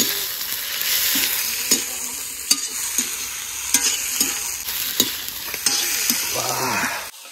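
Pork pieces fry with browned onions in a pan over a village kitchen fire, a constant close sizzle broken by regular clacks and scrapes of a spatula as the meat is stirred, with no talk.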